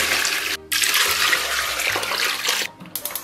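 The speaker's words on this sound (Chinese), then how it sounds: "然后给里边加水" Water poured into a cooking pot holding washed beef hooves, a steady close rushing pour broken by a couple of brief pauses, with no talking.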